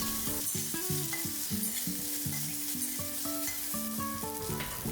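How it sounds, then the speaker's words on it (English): Green chili, cumin seeds and diced potatoes sautéing in ghee give a steady sizzle that runs the whole time, with background music over it and no speech. "Now in ghee, add green chili, cumin seeds and diced potatoes and saute for 30 seconds."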